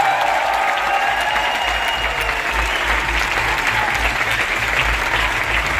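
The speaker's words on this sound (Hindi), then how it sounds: "दोस्तों उनके लिए जोरदार तालियां" Loud, sustained applause from a large crowd, steady clapping filling the whole stretch without letting up.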